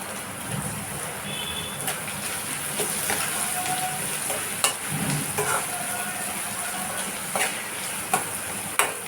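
Old Andhra style chicken fry with curry leaves sizzles steadily in a pan, with clinks and scrapes of stirring layered over the constant hiss.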